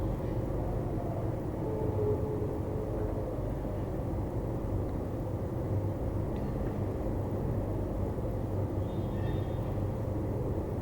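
A steady, continuous low rumble fills the interior of a moving Shatabdi passenger train between Bangalore and Chennai, even and moderately loud with faint occasional rattles.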